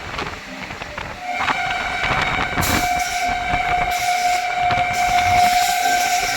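Passenger special train from Anand Vihar running through Etawah Junction without stopping; a loud continuous rolling rumble with a long sustained horn tone and bursts of hiss layered over the steady wheel noise.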